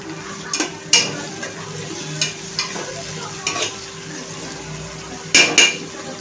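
Tomatoes stirred into fried onions in a pan for vangi bhat, with a steady soft sizzle under a handful of sharp spoon clanks and scrapes against the metal, close and fairly loud.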